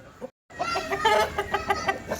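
A year-old Parla cross hen at a livestock market, clucking in a string of close, fairly loud pulses with a faint voice briefly heard before a short gap.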